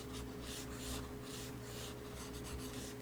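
A pen drawing broad shadow areas on a clothing illustration during a coloring lesson, giving soft continuous scratchy strokes, close and quiet, over a low steady hum with no talking.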